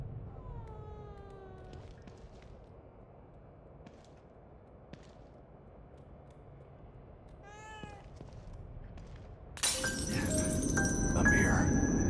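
A cat in The Evil Within 2 meows a few times: a soft call early, a sharper wavering meow later, then a sudden bright crash-like burst of game noise at the end.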